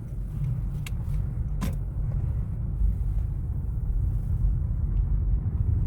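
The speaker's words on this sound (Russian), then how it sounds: "Вот машина едет." A Toyota or Honda hybrid car drives past at night after repair work, a steady low engine and road rumble holding evenly throughout, with a couple of faint clicks early on.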